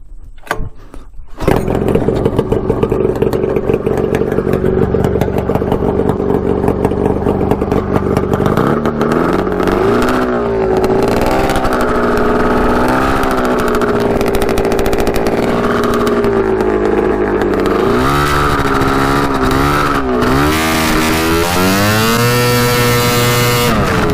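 A custom Yamaha Banshee quad's two-stroke engine blares loud and close during a ride, droning steadily and then revving up and down in repeated surges with rising and falling pitch.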